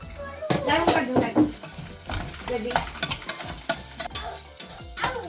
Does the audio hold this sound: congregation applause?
no